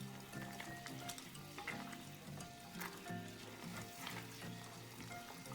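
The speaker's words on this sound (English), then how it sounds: "I'm just stirring the water into the caramel sauce until everything is nice and well diluted and blended together." Water being stirred into Vietnamese caramel sauce in a pan, giving a steady sizzling, bubbling hiss with soft scraping from the spoon, continuous and fairly close throughout.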